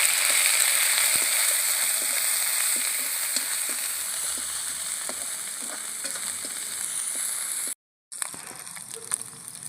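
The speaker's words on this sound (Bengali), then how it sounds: "আদা কাঁচা লঙ্কাটাও ভাজা হয়ে গেছে" Crushed ginger and green chili frying in oil for khichuri give a continuous loud sizzle with light ticking stirs, briefly cutting out near the end before resuming.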